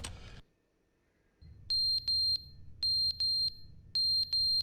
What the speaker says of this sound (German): Oh, hier piept was. Der Rauchmelder.